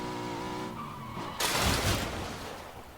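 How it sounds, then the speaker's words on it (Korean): Car driving in the video game PUBG: a buzzing engine tone rises in pitch, then a loud burst of tire skid and gravelly rushing noise takes over before fading slightly, close and without talk. "차 소리 나죠?"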